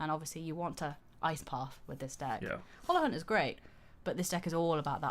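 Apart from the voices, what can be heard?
No everyday noise stands out behind the speech.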